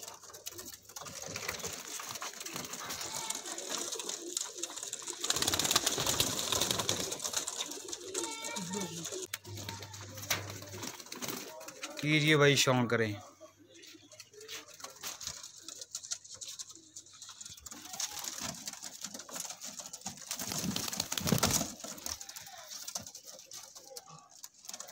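Pigeons coo and flutter close by in a steady low murmur, with someone speaking briefly over the birds.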